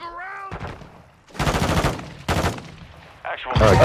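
Enemy gunfire in a Call of Duty match rattles out in three loud, close bursts with short gaps between them, the last one starting near the end; a faint tonal sound comes just before the first burst.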